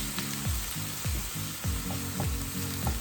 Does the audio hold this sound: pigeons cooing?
no